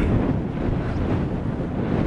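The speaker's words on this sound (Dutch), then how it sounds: "er staat heel veel wind" Strong wind on Texel, Netherlands, blasts the microphone in a loud, continuous roar with rough low buffeting and no other sounds.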